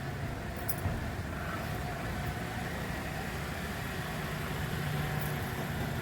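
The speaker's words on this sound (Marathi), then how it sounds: "गाडी आली आपली" A vehicle engine idles steadily with a low, constant rumble throughout, no voices.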